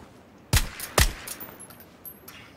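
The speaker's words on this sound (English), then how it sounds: "They're shooting at me again." Gunfire in the video game PlayerUnknown's Battlegrounds: two sharp, loud shots about half a second apart, each with a quick decay, followed by fainter pops and clinks trailing off.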